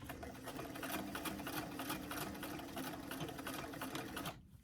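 Sewing machine stitching up the top of a doll dress sleeve, a close, continuous rapid whir and needle clatter that runs steadily for about four seconds and then stops abruptly, with no talking.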